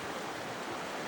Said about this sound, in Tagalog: Masarap pakinggan ang agos ng tubig